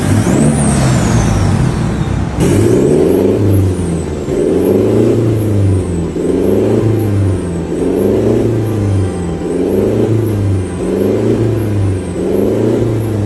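Car engine revving repeatedly with a newly replaced muffler, out on the road: a steady series of loud, rising-and-falling rev surges with a strong low exhaust tone, close and with no talking.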